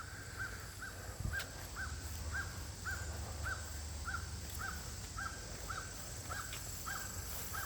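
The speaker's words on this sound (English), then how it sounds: "Crow's calling his buddy, huh?" A crow caws over and over in a steady, evenly spaced series of short calls outdoors, heard at moderate distance over a low rumbling background.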